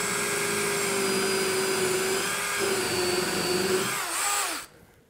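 A power drill's steady, continuous motor whine runs for several seconds with a high buzzing tone while drilling into wooden side planking of a skiff, then winds down and stops abruptly near the end.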